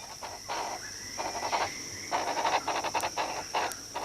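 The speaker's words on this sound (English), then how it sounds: "Here's another one, the magnificent rifle bird." A magnificent riflebird, a bird of paradise, gives repeated loud calls in bursts of rapid notes over a steady high insect-like drone in the forest, fairly close and without any talk.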